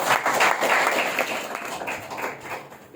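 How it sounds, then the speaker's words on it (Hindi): A satsang gathering claps for a birthday with light, uneven applause that swells briefly and then thins out over a few seconds, moderately close. "इतनी कमजोर ताली से काम नहीं चलेगा।"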